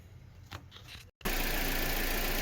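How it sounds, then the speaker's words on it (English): A 2010 Toyota Corolla 1.8 litre engine idles with the air conditioning on high, heard as a steady, loud, close mechanical hum with a blower rush that starts abruptly after a brief quieter stretch and a moment of silence. "this car's been idling with the AC on high, and it's been idling for like probably 15 minutes"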